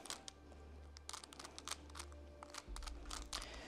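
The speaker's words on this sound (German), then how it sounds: "Dazu verdrehen wir den Würfel ein bisschen" A plastic Rubik's cube is twisted to scramble it, giving quiet, irregular bursts of clicking and ratcheting turns with brief pauses between them and no voices.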